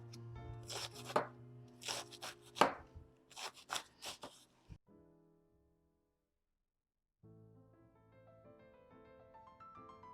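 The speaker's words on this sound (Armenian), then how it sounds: "արդեն ինձ մոտ կեսից մի քիչ ավելն եմ ընդամենը կտրատել" Knife chopping cabbage for sauerkraut on a board, a series of quick close rhythmic chops in bursts, followed by silence and then faint music.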